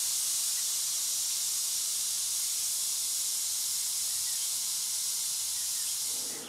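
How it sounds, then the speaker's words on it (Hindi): Steady, loud hiss of steam escaping from a pressure cooker whistle while whole moong dal cooks, a continuous rushing spray that holds evenly for several seconds and then cuts off abruptly at the end. "अब आप ढक्कन लगाना इन्हें 4-5 सीटी तक पकावला।"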